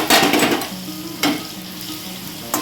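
Potato pieces fried in hot oil for desi mutton curry, a loud close sizzle with scraping stirs and spatula clinks against the pan, bursts at the start and again around the middle and the end, no talking.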